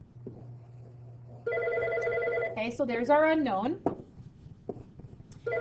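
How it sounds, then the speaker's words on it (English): A telephone rings in a classroom during an 8th-grade math lesson, a sustained electronic ring sounding in the background beneath a teacher's close speech, which carries on over it and pauses briefly before resuming. "Ignore that phone call in the background."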